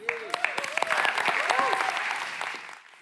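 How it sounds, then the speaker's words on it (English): Audience applause at a CEO pitch event during an innovation festival, a burst of clapping that swells to full, steady volume, with voices calling out over it, then fades away near the end. "let's encourage them with our applause and our energy"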